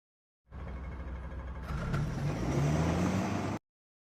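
A car passes close by with a steady engine roar and tire noise that swells about halfway through and then cuts off suddenly, with no voices.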